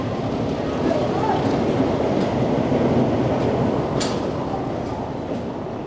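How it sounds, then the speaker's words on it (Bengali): Howrah–New Delhi Rajdhani Express arriving at Howrah station, a loud continuous rolling rumble of the train with a steady rhythm and a brief squeal near the end, heard alone without talk. "চলে আসছে ট্রেন নাম্বার 12301 হাওড়া জংশন থেকে নতুন দিল্লি রাজধানী এক্সপ্রেস"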